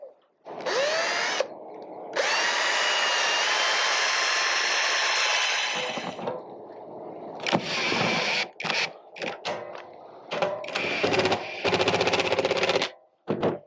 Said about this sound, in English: Now I just need to flip it and drill the holes.